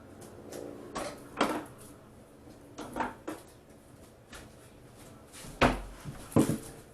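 A kitchen cabinet is opened and items are taken out while cooking Spanish-style pulled pork, giving several separate knocks and clatters of doors and dishes spread across the moment, each short and fairly close.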